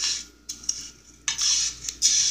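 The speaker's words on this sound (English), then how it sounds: "Now, what you're gonna do is stir it up." Noodles stirred in a bowl with a utensil, producing close scraping and clinking strokes in short bursts with brief pauses between them.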